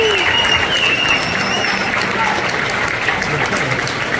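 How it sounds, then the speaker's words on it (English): A school orchestra concert audience applauds continuously, a dense, loud wash of many hands clapping at once with scattered cheers under it. "let's give a huge round of applause for every student performing today"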